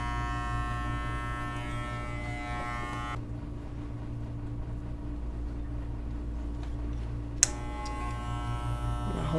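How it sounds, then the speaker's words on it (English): An adjustable electric hair clipper trims a man's mustache and goatee, a steady close buzz with a strong low hum that holds throughout, its sound changing as the blades meet hair. "I'm going to close my adjustable clipper, and I'm going to glide and trim like I'm trimming hedges with his goatee"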